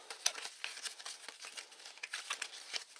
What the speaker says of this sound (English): get a little shuffle going here